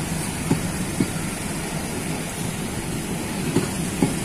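A train locomotive rolls past a station with a steady rumble, broken by evenly spaced clacks of wheels over rail joints, loud and close with no voices.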